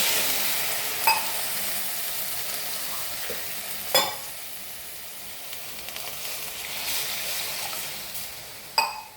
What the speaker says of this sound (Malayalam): ഞാൻ ഇതേപോലത്തെ ഗ്ലാസ്സിൽ 2 ഗ്ലാസ് വെള്ളം ചേർക്കുന്നത്